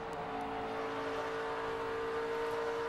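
A 2008 3M Performance 400 race car engine holds a steady, continuous drone as the driver comes back onto the throttle, with a droning whir and no talk over it.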